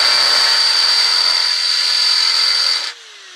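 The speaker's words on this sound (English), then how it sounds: "I'm going to see if I can drill it out a bit more using the 8mm, widen the hole that's existing." A power drill bores steadily through fitting material while fitting new cleats on a narrowboat, a loud continuous whine held for nearly three seconds before it cuts off and winds down.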